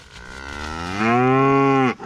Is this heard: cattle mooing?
yes